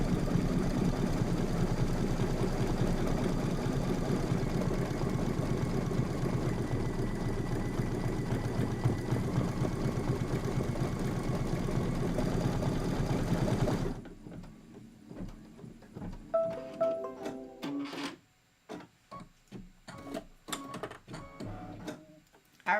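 A quilting machine stitches a design around a window motif in a Kimberbell's Quilting Through the Seasons project: a steady mechanical whirring hum for about fourteen seconds, then it stops, leaving quieter scattered clicks and handling sounds.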